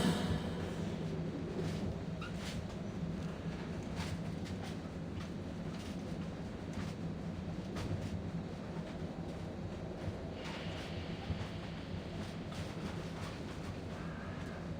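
Steady train ambience from the video game Reverse 1999: a continuous low rumble and rolling hum of a moving train, even and unbroken throughout with no voices.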